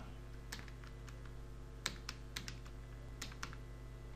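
Light typing on a computer keyboard while text is entered in Microsoft Word, with scattered quiet key clicks and a few sharper taps over a faint steady hum, no voices.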